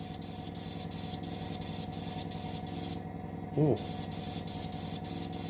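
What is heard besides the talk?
spraying a paint dust coat on a model submarine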